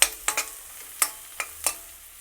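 Grated carrot and green masala stirred in a hot pan while cooking, a few separate scraping strokes over a soft, faint sizzle, close by and with no talk.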